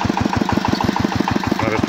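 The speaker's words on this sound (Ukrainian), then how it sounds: "Наш зубр 8 кінських сил." A Zubr 8 horsepower walk-behind tractor engine chugs steadily at close range with a fast, even pulsing beat, running throughout while ploughing a potato field in autumn.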